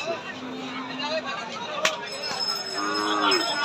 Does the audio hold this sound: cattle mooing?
yes